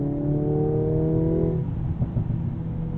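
A 2022 Mercedes-AMG GLA45 in Sport Plus mode drones steadily from inside the cabin with a rising engine tone, then the note drops off into a low, rough burble.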